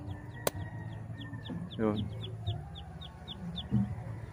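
Backyard flock of hens, young pullets and a rooster clucking and calling nearby, with a rising cackle partway through and repeated soft chirps throughout. Someone talks over the birds.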